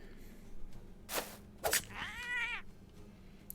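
A cat character in the video game Battle Brothers lets out a couple of short sharp sounds and then a drawn-out meow, fairly close and fairly quiet, with no talk.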